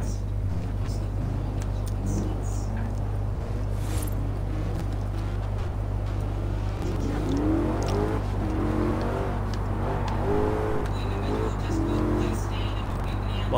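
Engine of a new Shelby GT500 Mustang with a drag setup in Forza Horizon 4, a steady low drone with rising and falling revs, under continuous game audio and overlapping voices.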